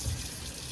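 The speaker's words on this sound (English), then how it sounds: "Add cold water" Cold water being poured from a tap into a bowl of blanched peas and ice, a short continuous splashing rush at close range.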